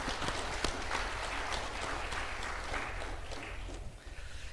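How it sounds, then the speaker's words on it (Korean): A church congregation at a Sunday worship service claps for its pastor in a full, sustained burst of applause that thins and fades toward the end. "격려와 사랑의 박수 한번 쳐드릴까요?"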